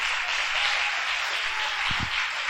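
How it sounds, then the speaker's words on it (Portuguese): A church congregation applauds after a prayer, a steady broadband wash of clapping that fills the space evenly and continuously, with a couple of low thumps near the end. "Vamos aplaudir o nome do Senhor."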